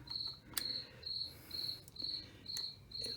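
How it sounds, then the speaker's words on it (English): Crickets chirp in steady, evenly spaced pulsing trills against a quiet night background, with a few faint clicks mixed in. "And sorry about the crickets."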